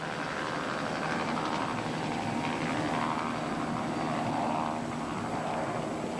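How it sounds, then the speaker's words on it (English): A helicopter flies off to a safe distance, a continuous broadband rotor and engine roar that stays fairly steady and moderately loud throughout, with no voices. "our helicopter could not stay. It had to fly out to a safe distance"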